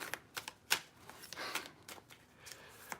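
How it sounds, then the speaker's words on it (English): Tarot cards being shuffled by hand, soft papery riffles and taps repeating irregularly, close but quiet, with no talking. "okay, you've shuffled for long enough now."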